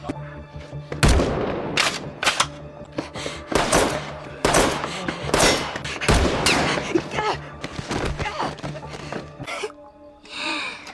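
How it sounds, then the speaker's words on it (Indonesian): Shotgun blasts ring out in a tense duel, several sharp booming shots in quick irregular bursts, loud and close, mixed with gasps and other action sounds. "dia langsung memulai duelnya dengan si Nana yang sedang menggunakan shotgunnya sebagai senjatanya"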